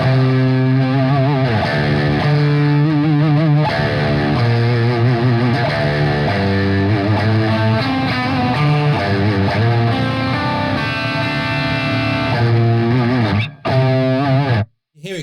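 A Schecter Ink Bomb electric guitar with active pickups plays heavily distorted, compressed riffs with bending, wavering notes, loud and continuous before cutting out abruptly near the end.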